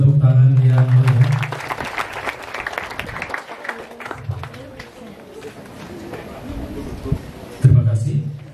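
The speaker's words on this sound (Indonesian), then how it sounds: "Kita berikan tepuk tangan yang meriah." An audience at a government event in Rote Ndao, East Nusa Tenggara, claps for the regent; brisk, dense applause rises, thins and then swells again briefly, with voices and a tonal sound at the start and end.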